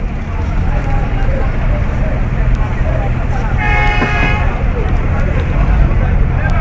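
A bus hums and rumbles along a busy road amid steady traffic noise, with a horn tooting briefly partway through.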